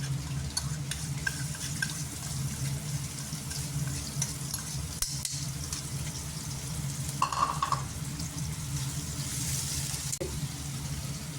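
Garlic and green chillies fry in a pan with a steady low sizzle and occasional stirring scrapes, a continuous close kitchen hiss with no talking.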